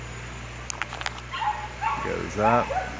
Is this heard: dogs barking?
yes